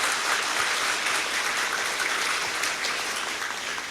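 Steady applause from an audience at a talk at a Chennimalai temple, dense and continuous clapping holding at an even level for the whole stretch, with no voices over it.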